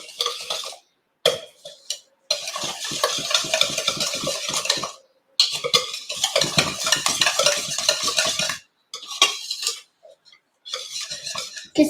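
Lemon cake batter with eggs being mixed in a bowl, bursts of rhythmic scraping and clinking strokes separated by short pauses, close and fairly loud.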